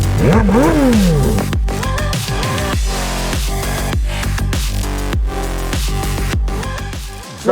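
A Ferrari F12 with its 6.3-litre engine at the Salon Privé supercar show, loud and close, rising and falling through rapid revs with a strong sustained roar lasting the whole stretch.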